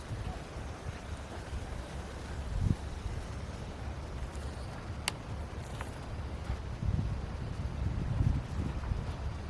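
Gusts of wind sweep through a deserted village outdoors at night, a continuous low rushing roar with buffeting surges and a few faint clicks, rising again toward the end.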